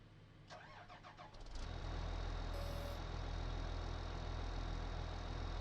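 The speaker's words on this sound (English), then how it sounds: "Could always bring the wheel loader and do a scoop that way." A wheel loader engine in Farming Simulator 19 cranks briefly, then settles into a loud, steady drone that holds without a break.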